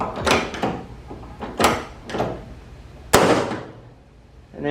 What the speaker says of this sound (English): we just squeeze the rivet gun until we hear our snap